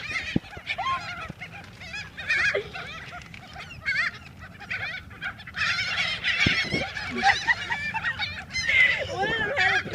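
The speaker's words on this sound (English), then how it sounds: "Invaded birds." A large flock of geese honks continuously and noisily while being fed outdoors, overlapping calls near and far, with occasional voices mixed in.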